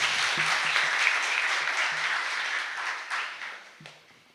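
Loud, sustained applause from an audience at a village book distribution program, a dense wash of clapping that holds steady and then gradually fades toward the end.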